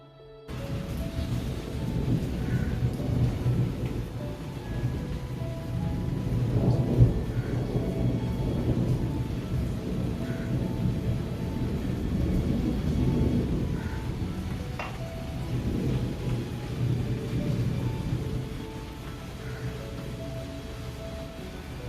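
A thunderstorm with steady rain gives a continuous wash of rainfall and deep rolling thunder swelling and fading over about twenty seconds, with no speech.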